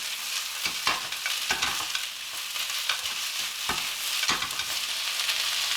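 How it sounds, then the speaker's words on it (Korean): Sliced cabbage and onion stir-fry in hot oil on a heated griddle for sundae bokkeum, a steady close sizzle broken by irregular scraping and stirring clicks from the spatula. "썰어둔 양배추와 양파를 넣습니다. 잘 섞으면서 볶으면 됩니다."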